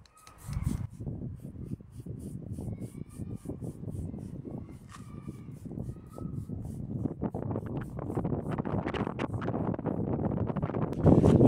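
Outdoor wind gusts during an oil change on a Citroën AX buffet the microphone with a steady low rumble that builds louder toward the end, with no speech.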